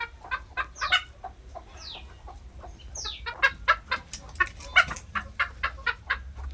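A hen sitting on eggs clucks in quick, repeated bursts close by as a hand touches her, with a few rising squawks mixed in and a low rumble underneath.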